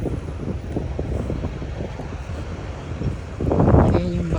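Steady breeze buffets the microphone outdoors on a dusty walk to school near a bus terminal, a continuous rumbling wind noise that swells toward the end, with no clear talk.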